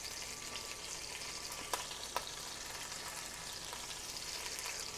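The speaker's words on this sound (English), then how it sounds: "It's popping a little bit, so I'm going to lower the heat just a smidge." Chicken searing in a hot pan for Greek braised chicken, giving a steady close sizzle and frying hiss with a couple of sharp pops partway through.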